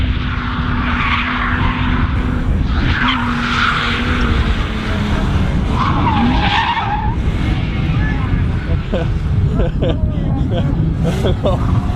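A car skids into a 360-degree spin at a drift entry, tires squealing over a loud engine, with people talking throughout.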